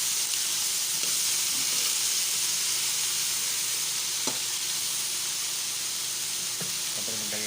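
Cauliflower sautéing in a pan for a simple vegetable breakfast, giving a loud, steady sizzle and hiss that runs unbroken throughout, with a few faint clinks of stirring scattered on top.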